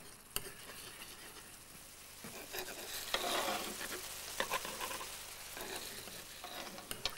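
Paprika stirred into a steak sauce sizzling in a hot pan, with a steady frying hiss and intermittent scraping stir strokes, fairly close and moderately loud, no talking.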